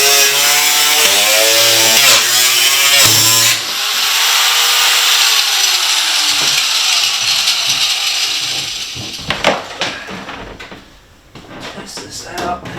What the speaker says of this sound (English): it's time to use the good old grinder here.